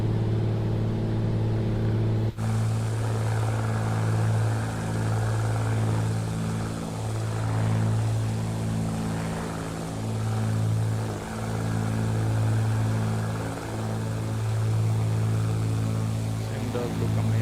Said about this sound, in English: for climbing we will reduce our throttle a bit, prop RPM a bit